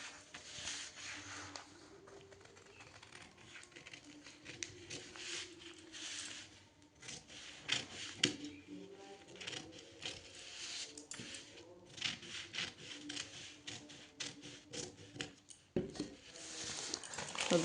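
Scissors snip steadily through blouse fabric along chalked lines while cutting a katori blouse piece for a 30-inch chest, giving a close, repeated crunching and snipping with short pauses and faint rustling of cloth, with no voice.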